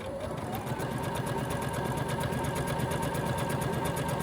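A Baby Lock Allegro sewing and quilting machine stitches continuously, a close, steady, fast mechanical whir with even needle pulses, while a person speaks over it.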